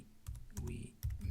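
Short burst of close computer keyboard typing while composing a message in a fleet messaging system, three quick clusters of soft key clatter with faint talk in the background.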